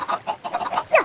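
Chickens on a video game chicken farm cluck in a short burst of several close, fairly loud calls, ending with a rising squawk.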